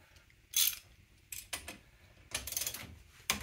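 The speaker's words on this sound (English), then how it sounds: "next one we're gonna need is a 15 millimeter for your caliper pins up here" A 15 mm ratchet working on brake caliper pins while fitting Wilwood four-piston calipers, heard as a few separate bursts of metallic clicking close by, with quiet gaps between them.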